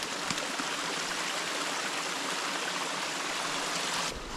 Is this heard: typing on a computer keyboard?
no